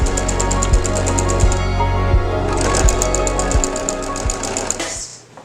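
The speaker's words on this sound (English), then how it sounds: "So now that I've sewed around here" A sewing machine stitches pastel spring fabric with a fast, steady mechanical chatter, loud and close, running continuously before slowing to a stop at the end.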